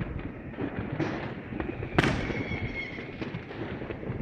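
New Year fireworks bursting over a rooftop slab, a dense crackling barrage with repeated pops and one sharp loud bang near the middle, at moderate distance.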